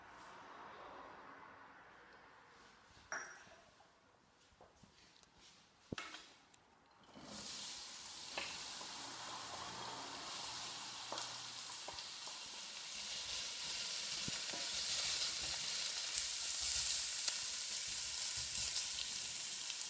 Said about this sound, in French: on va d'abord faire revenir les oignons avec le petit peu d'huile